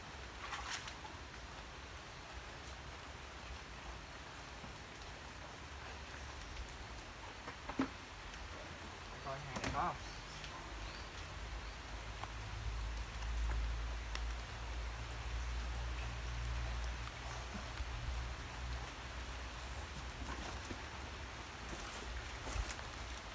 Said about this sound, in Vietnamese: Thôi mưa lớn tới rồi